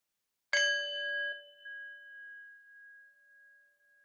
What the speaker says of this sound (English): in a few moments, I will ring the bell and you can open your eyes when you're comfortable